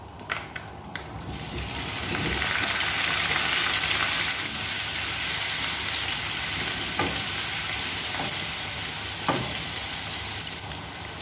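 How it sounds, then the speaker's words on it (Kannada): A fresh batch of paneer frying in hot oil, a loud steady sizzle that swells and holds close and continuous, with a few faint clicks and clinks of utensils along the way. "ಇವಾಗ ಇನ್ನೊಂದು ಸೆಟ್ ಪನ್ನೀರ್ ಹಾಕ್ತಿದ್ದೇನೆ ಅದೇ ಆಯಿಲ್ಗೆ ಹಾಕ್ತಾ ಇದ್ದೇನೆ"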